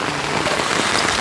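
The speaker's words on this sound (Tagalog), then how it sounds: "Lagi na lang umuulan" Dense, even hiss of rain falling steadily, close and fairly loud, with no breaks.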